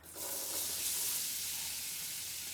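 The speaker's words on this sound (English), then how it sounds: "So let's now get our onions in there." Onions tipped into a pan of hot spices for a leftover turkey curry, setting off a sudden loud sizzle that holds as a steady, close hiss for a couple of seconds.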